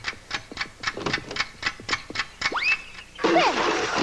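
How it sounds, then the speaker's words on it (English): A loud clock ticks in an indoor room in a steady, close rhythm, then is cut off by a springy twang and a burst of rattling noise. "Oh, I just hate the sound of a loud ticking clock."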